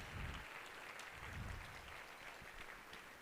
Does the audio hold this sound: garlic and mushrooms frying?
no